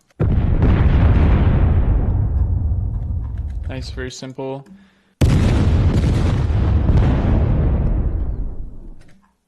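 Layered big explosions roar in two long, heavy blasts with deep rumbling tails, split by a short burst of sharper electronic tones and a brief gap. A voice speaks briefly.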